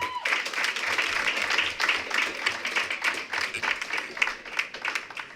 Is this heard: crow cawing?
no